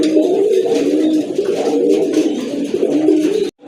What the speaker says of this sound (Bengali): মাশাল্লাহ আরেক জোড়া কবুতর এই যে দেখেন